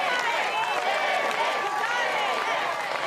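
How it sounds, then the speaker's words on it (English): A large, loud crowd chants a competitor's name in rising, rhythmic waves at the American Ninja Warrior Daytona Beach finals, a continuous roar throughout. "The crowd chanting his name as he backs into the tower."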